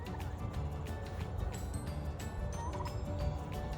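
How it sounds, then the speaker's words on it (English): Farm poultry calling continuously, with dense gobbling and clucking from several birds close by over steady barnyard noise, no talk. "There's the chicken."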